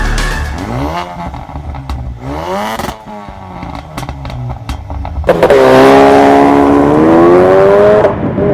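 A 2016 Ford Focus RS at Silverstone, its engine loud and close as it revs and climbs through the gears, pitch sweeping up and down before a sustained high-rev pull, with no voices.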